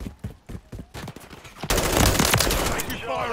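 Automatic gunfire in a first-person shooter game on a domination map: scattered shots first, then a dense, loud, sustained volley of machine-gun fire that fills the rest, with faint voices mixed in.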